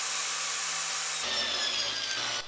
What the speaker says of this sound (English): I can set up a stop block on my crosscut sled, and this will allow me to cut down some equal size strips